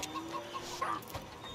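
A chicken clucks in the video game Ultimate Chicken Horse, a few faint, short clucks in quick succession heard quietly over soft background game sound.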